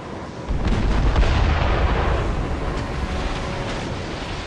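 Enemy mortar fire striking a sailing ship in Assassin's Creed Rogue, a loud, sustained rumbling barrage that swells after a brief moment and then holds steady.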